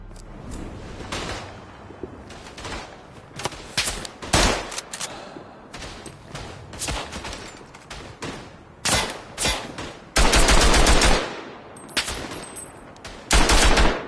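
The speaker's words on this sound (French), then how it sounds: "la mitrailleuse, elle est mal placée" Machine gun fire in the WW1 video game Tannenberg comes as scattered distant bursts and single cracks, with several loud, dense volleys of rapid fire breaking through.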